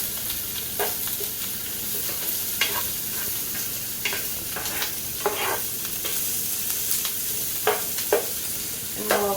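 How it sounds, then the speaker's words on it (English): Onion fries in a pan to caramelize, giving a steady close sizzle broken by repeated scraping stirs of a utensil at irregular intervals. "take this onion, and we're going to get it nice and caramelized"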